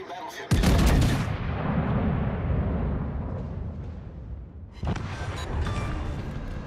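Naval artillery in the warship video game World of Warships: Legends, two heavy booming salvos, one near the start and another about four seconds later, each followed by a long rumbling roar that slowly fades.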